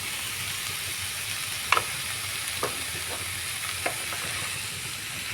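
Squash curry with potato and soybean frying in a pan, a steady soft sizzle broken by a few sparse scrapes and clicks of stirring, close and alone.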